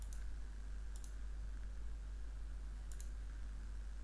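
On a Windows 11 computer, three faint, sharp mouse clicks save a config file, spaced irregularly over a steady low hum.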